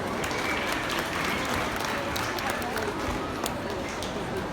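Audience applauding at an agricultural show cat presentation, a soft, continuous patter of hands that stays fairly distant and even, with faint murmuring from the crowd underneath.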